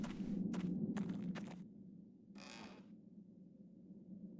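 A wooden drawer creaks open in the Black Mirror adventure game, with a few short mechanical knocks and scrapes followed by a longer grinding slide over a steady low background hum.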